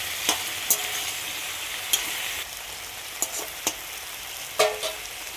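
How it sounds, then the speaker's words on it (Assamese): Malabar spinach leaves stir-fry in a pan with a constant close sizzle. A spatula scrapes and knocks against the pan in irregular sharp clicks. No one talks. "আৰু এতিয়া ইয়াতে এড কৰি দিলোঁ পুৰৈ শাকৰ পাতখিনি দি ধুনীয়াকৈ আকৌ লৰাই ল'লোঁ।"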